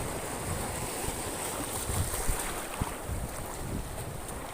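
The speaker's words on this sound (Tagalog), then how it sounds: "malakas yung alon" Strong sea waves rush and churn near rocks on a fishing outing, mixed with heavy wind buffeting the microphone, a broad continuous roar with no speech.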